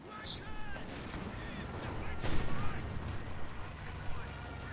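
Vickers machine gun fire in a Company of Heroes 2 World War II battle, dense rattling bursts blended with distant artillery booms and crashes, with someone talking over it.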